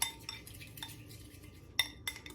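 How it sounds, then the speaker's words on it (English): Utensils stirring Caesar salad in a bowl give a few soft scrapes and light clinks at an uneven pace, quiet and close with no voices. "just give this another really good stir"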